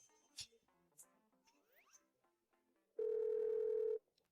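A telephone rings once in a single long, loud, steady electronic tone lasting about a second, after a stretch of quieter mixed sounds and faint chimes.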